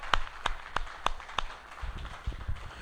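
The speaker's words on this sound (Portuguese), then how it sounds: "Palmas." A churchgoer claps in a slow, regular rhythm, five distinct close claps, while a softer murmur of the congregation continues underneath.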